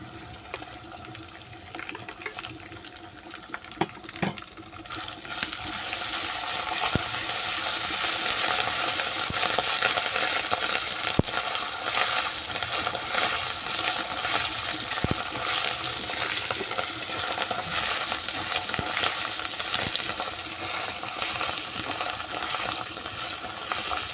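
Ginger paste fries with garlic in a pan, a steady sizzle that swells after a few early clanks and scrapes, with occasional stirring knocks, close and unvoiced throughout.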